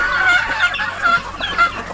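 Darag native chickens cluck repeatedly in a farmyard feeding area, close and fairly loud, with a rooster among them and overlapping calls in uneven bursts.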